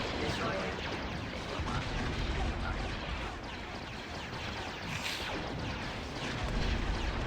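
Battle in the Star Wars strategy game Empire at War, with a dense continuous roar of gunfire and rumbling explosions under a voice talking.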